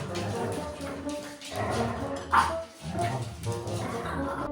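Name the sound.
dog Kobe barking, telling the other dogs off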